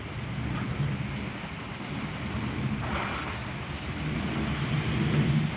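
Heavy rain makes a steady, dense wash of noise at low volume, with a faint low rumble running through it and no voices.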